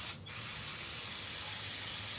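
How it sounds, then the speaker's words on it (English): Cleaner sprayed inside a part of an Onan Emerald 3 generator during a tune-up, a steady broadband hiss that runs continuously after a brief dip at the start, with no talking. "Spray inside, there'll be junk inside there."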